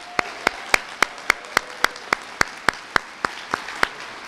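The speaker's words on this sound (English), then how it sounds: "Let's give them a big round of applause for their work." Audience clapping at a behavioral health legislative forum: about fourteen sharp, evenly spaced claps in a slow, steady rhythm, moderately loud and with no talking.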